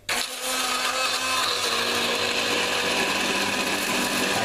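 A kitchen blender whirs steadily while chopping ginger for a jerk chicken marinade, starting abruptly and then running loud and close without a break.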